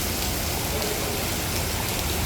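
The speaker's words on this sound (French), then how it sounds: "Là, c'est le déluge." Heavy rain pours down outside a building, a steady dense hiss of falling water filling the whole stretch with no voices.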